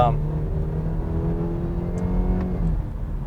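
A 2020 Cadillac CT5 Premium Luxury four-cylinder with a 10-speed automatic, accelerating smoothly with a steady, rising engine drone heard from inside the cabin, loud and continuous under a voice.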